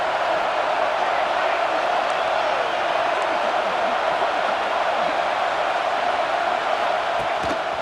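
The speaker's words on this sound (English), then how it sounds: "the crowd coming to life here" Stadium crowd roaring and cheering in the video game EA Sports College Football 26, a steady dense wall of crowd noise pushing the defense in the red zone, continuous and loud throughout.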